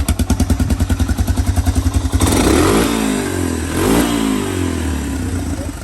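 A Honda 250SX ATV engine starts without choke, chugging in a quick loud rhythmic idle for about two seconds before revving up hard into a roaring, wavering throttle.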